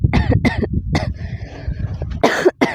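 Someone coughs repeatedly up close, a run of harsh bursts, a brief pause, then a couple more loud coughs.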